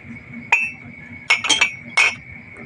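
Drinking glasses, including one with a flower pattern, that were recovered from under the sea clink as they are handled: a single bright clink, then a quick cluster of clinks and one more near the end, close and clear.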